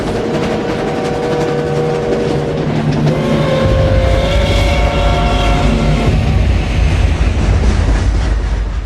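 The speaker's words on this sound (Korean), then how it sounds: "기차는 문명과는 동떨어진 황량한 지역의 강제 수용소로 향했다." A train carrying prisoners to a concentration camp rumbles loudly and steadily, with a deep low roar, rolling wheel noise and sustained metallic tones, heard alone for several seconds.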